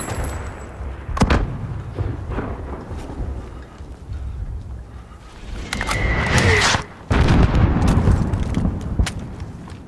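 Gunfire in the video game Modern Warfare: sharp booming shots and bursts crack out irregularly over a rumbling battle backdrop, growing denser and louder toward the end.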